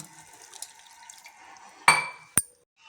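Water is poured into a pan over mustard seeds and chillies during home cooking, a short splashing burst of about half a second followed by a sharp clink, with quiet kitchen background around it.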